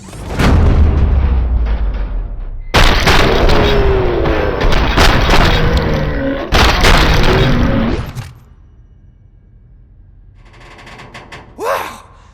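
Loud, dense automatic gunfire and booming blasts from RoboCop: Rogue City, two sustained bursts over several seconds, then a sudden drop to a quiet hum with a brief whoosh near the end.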